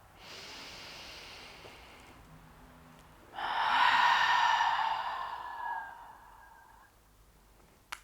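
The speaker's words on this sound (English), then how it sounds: "A few more breaths there." Slow, audible nasal breathing during a relaxing yin yoga session: a quieter breath followed by a longer, stronger exhale, close and unhurried, with no talking.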